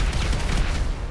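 A sticky bomb detonates in GTA V, a loud booming blast followed by rumbling debris-like crackle across the whole brief moment.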